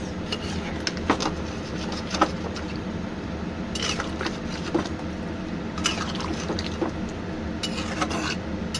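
Water is poured and stirred into a simmering Bengali shingi fish curry with papaya, potato and green banana, with a steady liquid wash and scattered clinks of a utensil against the pot, and no talking.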